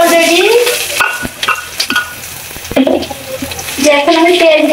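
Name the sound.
chopped onion frying in hot mustard oil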